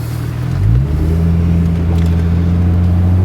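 A 2000 Plymouth Prowler pulls away, its engine note rising in a short rev as it shifts, then settling into a steady, close, loud drone under continuous road noise.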